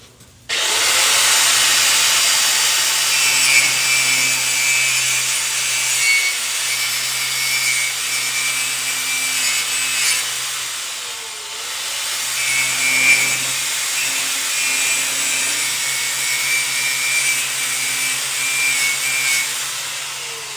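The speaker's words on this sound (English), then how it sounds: "make sure these brushes are hitting the side of it like this" Wire brushes scouring a weld clean, producing a loud, steady, close-up abrasive rasp that runs almost unbroken for the whole stretch, with a low hum beneath and no voices.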